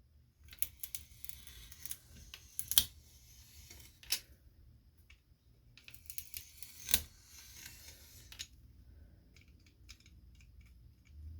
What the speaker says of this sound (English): use this box cutter to define those cuts and get all the way through. Just going slowly so I don't crack the wood